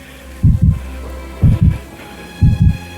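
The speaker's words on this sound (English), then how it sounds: "the hellish tattoo of the heart increased" Three evenly spaced double thumps of a heartbeat, low and deep, repeating steadily about once a second against a faint hum.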